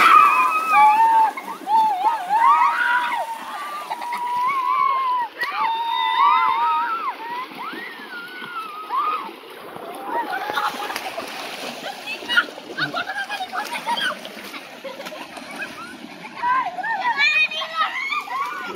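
Small children bathing in a dammed stream splash continuously in the water, with excited kid voices, squeals and shouts over the splashing.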